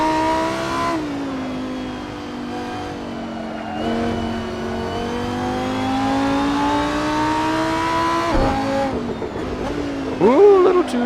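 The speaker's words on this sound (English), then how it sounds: "But that V10 is always going to be fun to listen to." A Lamborghini V10 racing car engine in a video game, Assetto Corsa at Laguna Seca, holds a steady high drone, then revs sharply up and down near the end, with a brief drop in the middle.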